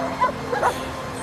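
A police dog barks in short yips and a brief whimper, two or three quick calls close by, with a faint background hum.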